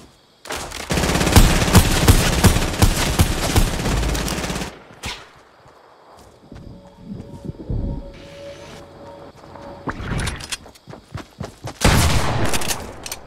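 Rapid automatic gunfire in Fortnite's Team Rumble mode, with a long sustained burst up front followed by scattered shots and bursts, loud and close, with a few quieter gaps between.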